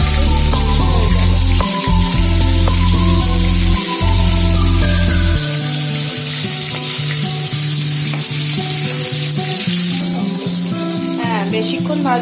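Prawns frying in a pan for prawn malaikari, a loud, steady sizzle running the whole time with occasional stirring and clinks of utensil on pan, no voices.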